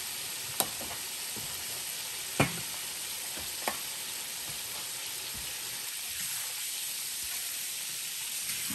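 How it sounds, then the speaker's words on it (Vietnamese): Chicken wings fry in a pan with fish sauce, a steady soft sizzle and hiss with a few sharp clicks of stirring, close and alone without any talking. "món cánh gà chiên nước mắm nha cả nhà."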